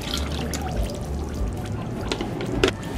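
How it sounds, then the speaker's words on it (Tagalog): Two cups of water are poured into a maja blanca mixture of cornstarch, making a continuous splashing pour with small drips and one sharp clink near the end. "Lalagyan ko siya ng 2 cups ng tubig."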